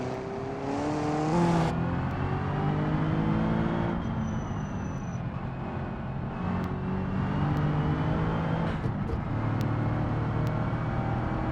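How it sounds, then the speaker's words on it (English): A car engine pulls up a hill in the BeamNG video game, a steady revving drone that rises and falls through gear changes with whirring tones, close and continuous. "Using the torque on this car to get this up the hill here."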